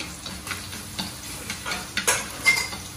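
Chopped garlic sizzling and frying in a hot pan, with soft crackles and occasional stirring scrapes in a steady, close-up cooking texture.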